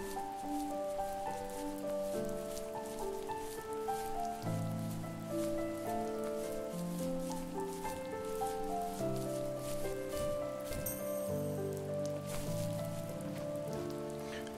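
Steady rain pattering on surfaces in the video game The First Tree, soft and continuous beneath a slow melodic music score, with no talking.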